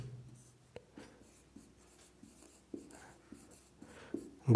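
Chalk or marker taps and strokes on a classroom board during a Class 10 science lecture, short scratchy bursts at irregular intervals, close and fairly quiet with no talking over them.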